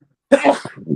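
One short, sharp sneeze bursts out close by after a moment of silence, followed by a brief trailing breathy sound.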